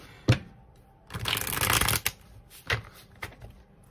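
Tarot cards being shuffled by hand: a sharp tap, then a riffling burst of about a second, followed by a few scattered soft card slaps, close and fairly quiet, with no talking.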